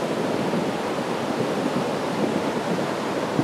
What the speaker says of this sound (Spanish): Se salió la correntada